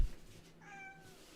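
A pet cat named Maya gives a single short, clear meow, fairly close and soft, against a quiet room.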